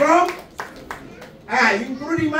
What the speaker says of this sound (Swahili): Piga Bwana makofi.